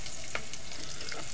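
Tofu (tokwa) frying in a pan for adobo: a steady, soft sizzle and crackle of hot oil, close and continuous with no talking.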